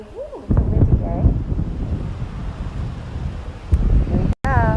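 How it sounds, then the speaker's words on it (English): Wind at a beach house as doors open, rough gusty buffeting over the microphone that starts abruptly and continues strongly, with a voice speaking over it and a brief dropout near the end. "it's a windy day"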